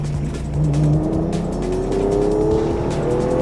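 A fast car accelerating hard around the Top Gear test track, its engine note climbing steadily in pitch as it pulls out of a corner, loud and close throughout.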